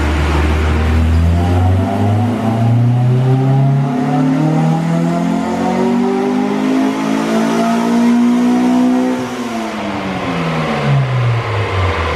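A B16 Honda Civic engine revs loudly on a dyno, steadily climbing in pitch as VTEC engages, then drops briefly and rises again, a continuous close-up roar with no talking.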